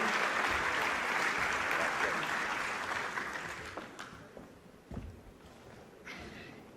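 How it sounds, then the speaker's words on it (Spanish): A room full of people applauds warmly. The clapping gradually thins out and fades to a few scattered claps. "Lo recibimos con un caluroso aplauso a Carlos Perellana"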